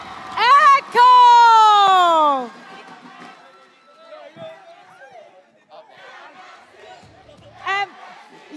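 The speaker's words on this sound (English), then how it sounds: "Everyone's cheering for you, Yawi." A crowd at an MPL Philippines esports playoff erupts in loud, drawn-out cheering and shouting near the start, then settles into a lower murmur of voices and scattered calls.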